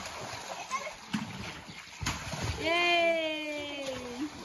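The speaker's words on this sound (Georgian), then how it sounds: "აი, ახლა მე რო ჩავხტები." Someone jumps into water in a village setting, giving a short splash among brief slaps and sloshes, while nearby someone speaks and a voice rises in a drawn-out call.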